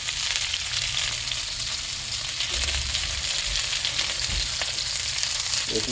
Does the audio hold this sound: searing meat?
yes